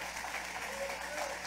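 A church congregation at a Sunday celebration service claps together in dense, continuous applause that fills the room, steady and moderately loud for the whole stretch.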